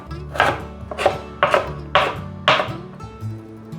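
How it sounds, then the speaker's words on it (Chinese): A knife cuts a carrot into thin strips on a board, giving about six evenly spaced, close, crisp chops with short pauses between them. "把红萝卜切丝。"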